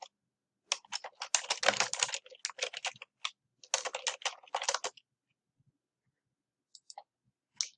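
Bursts of typing on a computer keyboard, quick clustered keystrokes in two main runs followed by a few isolated clicks, close and alone in an otherwise quiet room.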